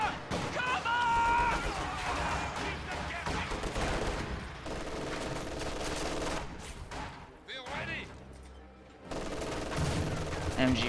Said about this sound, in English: MG42 firing on those guards.